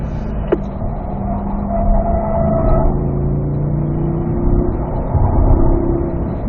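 A race car accelerates hard out of a corner on the Spring Mountain North Course, its engine note climbing loud and close through several rising sweeps, with no talk over it.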